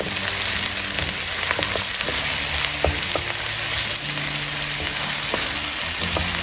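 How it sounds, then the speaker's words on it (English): Chopped onions sauté in a pan for chorizo pasta, a steady close sizzle with scattered spatula scrapes and clicks throughout, no talking. "Next goes the chopped onions. Saute a bit."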